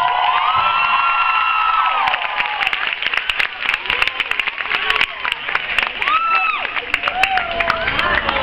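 Audience at a Mystic Moon panel applauding as the Ian Somerhalder Foundation's executive director comes up. Clapping mixes with shouts and cheers from a crowd, with voices calling out over the continuous applause.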